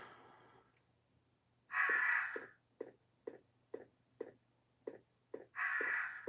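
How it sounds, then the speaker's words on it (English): Crows caw in harsh, repeated calls: two long drawn-out caws bracket a run of about eight short, evenly spaced caws, fairly close and loud over a quiet outdoor background with a low steady hum. "I'm gonna have to fend off birds."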